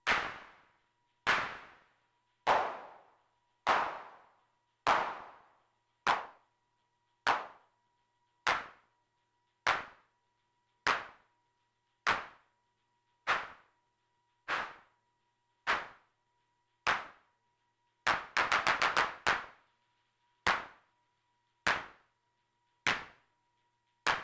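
Eurorack modular drum claps drenched in heavy reverb, struck in a steady rhythm of single hits with long decaying tails, plus one quick flurry of rapid claps near the end, no talking.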